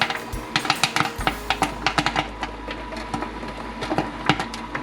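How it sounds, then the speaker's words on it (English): Cinnamon sugar popcorn popping in a motorized stirring popper over heat, a steady stream of sharp close pops in quick irregular succession with a low motor hum underneath, no talk. "as it starts to slow down, the popping, we want to dump it out so it doesn't burn"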